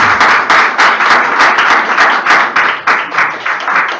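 Church congregation clapping for the Lord, a loud, close wash of many hands with a pulsing rhythm, as if clapping roughly in time, continuing steadily throughout.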